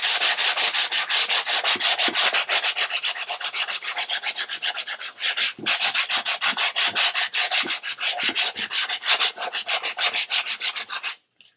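Rapid back-and-forth strokes of 60-grit sandpaper on wood, a steady rhythmic rasping that runs continuously with one brief pause, then stops abruptly.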